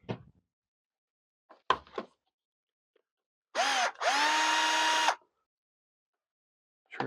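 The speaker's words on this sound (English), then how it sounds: "I'm going to take these two screws out right quick." A power drill backs screws out of a 2012 Honda NC700X motorcycle during trunk key cylinder replacement: two short whirring bursts, the second longer, amid sparse handling clicks and quiet gaps.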